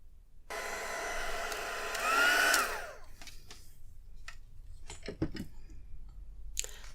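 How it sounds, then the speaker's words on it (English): A heat gun drying a freshly stamped card, a steady close whooshing blower roar that swells briefly then shuts off, followed by light handling clicks and taps of the card. "I'll just get the heat gun and dry this off."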